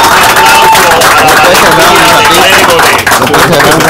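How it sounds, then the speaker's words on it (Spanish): Crowd at a rescue site for miners trapped at Cerro Maimón applauds the rescuers, a loud, dense, steady wash of clapping with babble mixed in. "Un aplauso a todos los rescatistas"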